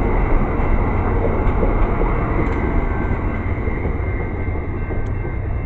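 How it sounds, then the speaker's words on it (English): An Amtrak passenger train pulls out of a station, a loud, steady broadband rumble of wheels and engine that holds at a constant level from start to finish, with no talk. "There goes the train, pulling out of here"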